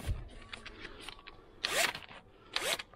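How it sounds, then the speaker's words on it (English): A power drill fitted with a brush attachment scrubs dirt loose, whirring up in two short bursts with rising pitch over steady scraping and rubbing. "brush on the end of a drill, free up the dirt"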